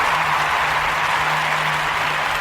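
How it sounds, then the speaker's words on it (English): Steady applause from a crowd fills the whole stretch at an even level, dense and continuous with no voices standing out, and a faint low hum runs beneath it. "Give yourself a round of applause for listening"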